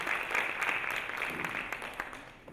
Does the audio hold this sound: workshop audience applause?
yes